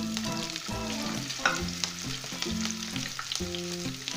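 Onions sizzle in hot oil with cumin, dried spices and green chili, making a continuous close frying hiss with occasional stirring clatter and a faint steady hum in the background.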